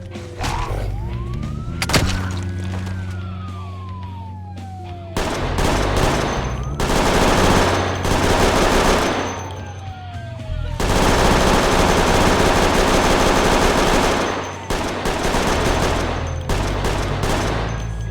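Heavy weapons fire in the zombie survival game Project Zomboid brings sustained bursts of loud, rapid gunfire that come in long stretches, with a wailing siren-like tone rising and falling between and under the shots.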